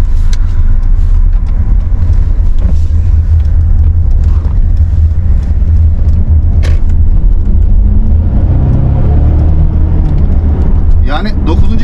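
A Mercedes GLC 250 Coupe 4Matic accelerates through city traffic, its engine a loud steady rumble heard from inside the cabin while someone talks over it throughout.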